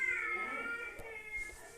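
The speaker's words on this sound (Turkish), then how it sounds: "Gördüğünüz şu an yanımda kedi." A pet cat in the PK XD video game gives a drawn-out meow with a clear, wavering tone, heard over low game background sound.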